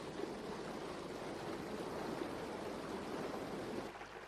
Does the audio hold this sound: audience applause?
no